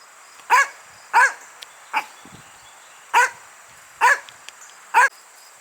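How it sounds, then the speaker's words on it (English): A dog barks six times in short, sharp bursts at irregular intervals, close and loud against a quiet background. "What are you barking at?"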